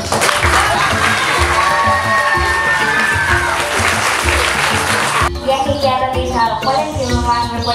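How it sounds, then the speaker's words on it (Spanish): Sustained applause from a large school audience, steady and loud throughout, with a change in texture near the end as the clapping continues over music. "saludemos con un cariñoso aplauso"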